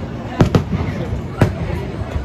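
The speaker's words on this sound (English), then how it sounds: "Fireworks are going off." Fireworks bursting at night in the rain at an amusement park, three sharp pops: two close together, then a third a second later, over a steady wash of crowd noise and ambient rumble.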